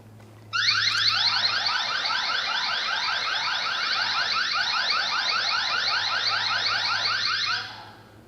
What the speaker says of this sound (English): When someone moves your camera, the camera and HomeBase will sound an alarm.